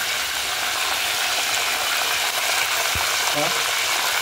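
Fresh Bombay duck fish frying in oil in a pan, a steady close sizzle running throughout with a brief scrape of a utensil near the end.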